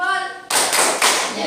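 Rhythmic clapping for a thumb-clapping game in a teacher training session, a group producing a few dense bursts of claps after a brief voiced lead-in.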